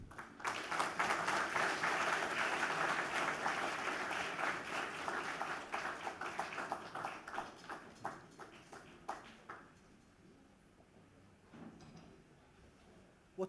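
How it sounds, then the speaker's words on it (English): Sustained applause from a lecture audience, loud and dense for about nine seconds, then thinning into scattered claps and dying away near the end. "Another round of applause, please"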